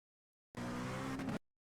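An LMP2 prototype race car engine in a racing video game at Imola, a brief loud tonal roar lasting under a second that cuts in and out abruptly.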